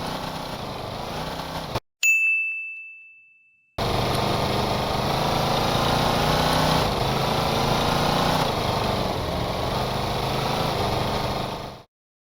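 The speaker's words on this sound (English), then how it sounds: "With the turbo button came a third engine." Boat engines with turbo running in Stormworks, a loud steady mechanical drone that cuts out briefly after a sharp ding, then roars back and holds evenly before stopping abruptly.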